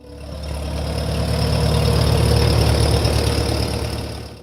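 A Farmall Super H tractor engine idles with a steady low rumble and faint knocking, growing slightly louder then easing, close and alone.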